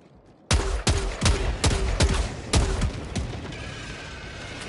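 Rapid gunfire in the Helldivers 2 video game: about seven loud, sharp shots in an uneven burst, then a fading tail after the magazine runs dry.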